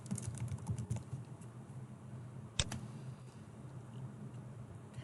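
Computer keyboard typing in quick, irregular bursts of soft clicks close by, with one sharper isolated tap partway through and no talking.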